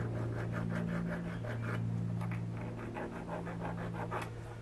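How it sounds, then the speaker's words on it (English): A hand file cleans up the drilled and reamed edges of a metal bearing block for a Gingery four-jaw chuck, making a steady run of rasping strokes at close range with no talking. "Just cleaning up the edges left by the drilling and reaming process."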